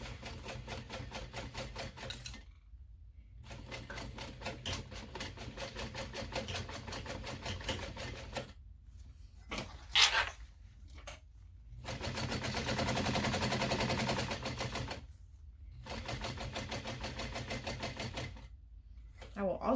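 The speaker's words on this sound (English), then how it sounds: "Now we're going to baste all the way around." A sewing machine bastes around the edge of a mini backpack, running in long close, rapid stitching bursts broken by short pauses, with a person talking.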